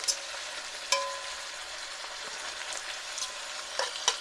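Pork and roughly chopped onion fry in a pan with a soft, steady sizzle and a few light clicks of stirring, fairly quiet and without speech.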